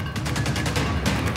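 Gunfire during a blackout in Akhnoor, Jammu and Kashmir: a dense, continuous rattle of rapid shots, loud and unbroken through the clip.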